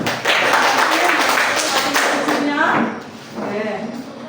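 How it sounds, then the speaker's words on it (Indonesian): A class of students applauds a group, a brief burst of clapping from a room full of people, fading out after a few seconds with a voice speaking over it. "tepuk tangan dulu untuk kelompok 2"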